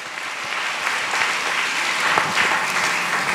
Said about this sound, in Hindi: तालियां बजा के हम परमेश्वर को धन्यवाद दें।